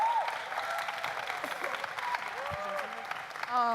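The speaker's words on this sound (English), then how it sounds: "Let's give them one more round of applause" A crowd at a youth town hall for a human rights award breaks into sustained applause, a steady wash of many hands clapping with scattered whoops and voices over it, moderately loud.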